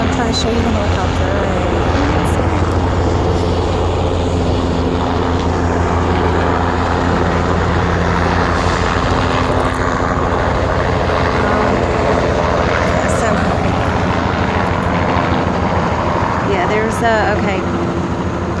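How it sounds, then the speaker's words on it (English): A helicopter flying overhead sets up a loud, continuous rotor and engine roar with a throbbing low pulse, with voices talking over it at times. "I'm trying to show you the helicopter."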